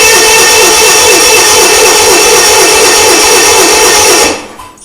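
An Onan engine cranks on a weakening battery, a loud, continuous whirring churn close by that runs steadily for about four seconds before cutting off abruptly, with no voices.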